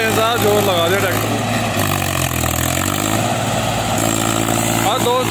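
Loud, close engine roar from a Mahindra 265 DI tractor pulling a heavy trolley through soft, wet mud, grinding steadily under strain as someone speaks over it.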